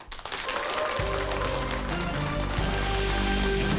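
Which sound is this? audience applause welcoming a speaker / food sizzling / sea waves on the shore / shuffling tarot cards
audience applause welcoming a speaker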